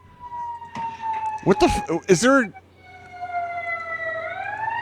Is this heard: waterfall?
no